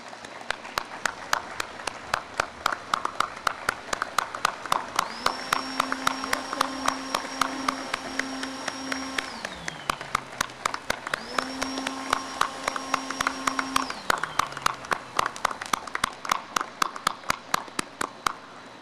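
Ceremony audience clapping at the unveiling of new $50 and $100 banknotes in Belize, a moderate, steady patter of applause through the whole stretch, with a sustained electronic tone sounding twice over it.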